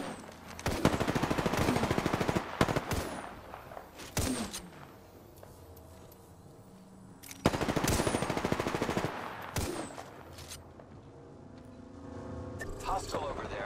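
Gunfire in Apex Legends: two long bursts of rapid automatic shots with a few single cracks between them, loud and close, over game sounds and voice chatter.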